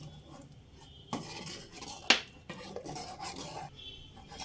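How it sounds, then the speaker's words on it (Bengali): A metal spoon stirring payesh, a rice pudding made with milk powder and cashews, in a pot over a medium flame, heard as close scraping and rubbing with a few sharp clinks against the pot. "এবার মিডিয়াম ফ্লেমে চাল সিদ্ধ হয়ে আসা পর্যন্ত অনবরত এভাবে নাড়তে থাকবো"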